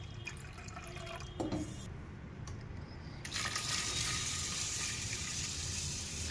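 Soaked rice and lentils for Gujarati white dhokla batter are rinsed in water: a steady wash of sloshing water with a brief splash, growing louder and fuller partway through, with no talk.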